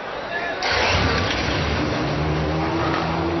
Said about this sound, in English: The Ferrari V8s are fired up from top end of the grid all the way down to the back